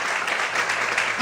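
A church congregation applauds together in steady, dense clapping that holds at an even level throughout, with no distinct voices standing out above it.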